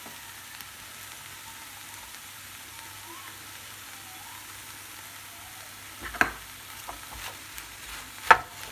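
Turkey stir-frying in a pan with red and yellow peppers and carrot, a faint steady sizzle with a few louder clatters of stirring near the end, no talk.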